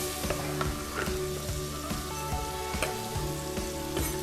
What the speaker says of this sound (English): we're going to saute this until the vegetables are soft